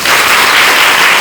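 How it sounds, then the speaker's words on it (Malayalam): A dense burst of applause from an audience at a religious gathering, loud and close, sustained evenly through the whole short moment without any voice over it. "എന്നാ ഒന്ന് കൈയടിക്കാം"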